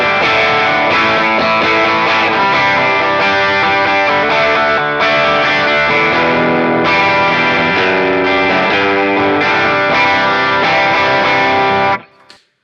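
Electric guitar plays continuous distorted chords through Getaway Driver overdrive and Pure Sky pedals with light reverb, loud and dense for about twelve seconds before cutting off and ringing out briefly.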